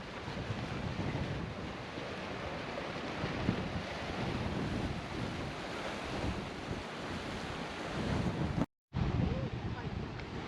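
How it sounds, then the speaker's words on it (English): Waves surge and crash continuously through a narrow rocky channel, with gusts of wind buffeting the microphone and a brief dropout near the end. "You got the water smashing through there."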